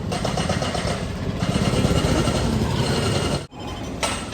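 Honda Activa scooter engine running steadily during a ride, a loud continuous hum and road rumble with a brief dip near the end before resuming.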